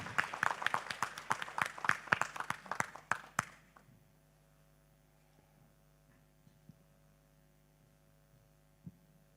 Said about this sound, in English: give big applause to Tari Trihita Karana